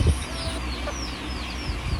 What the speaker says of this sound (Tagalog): Ang daming manok ng nanay ko rito eh.